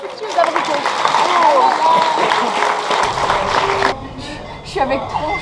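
A crowd claps and cheers amid loud overlapping chatter, the applause cutting off abruptly partway through while voices carry on.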